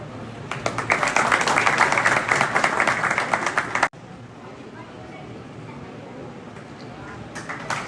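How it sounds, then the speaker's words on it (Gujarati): Applause from an audience at a community award ceremony honouring students, a dense burst of clapping that cuts off abruptly midway, leaving a quieter room with faint claps returning near the end. "આપણે તાળીઓથી એમને વધાવતા રહીએ"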